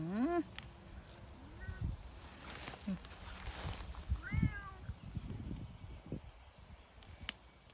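A cat meows repeatedly in short rising cries at moderate distance outdoors, with rustling and faint background noise around it.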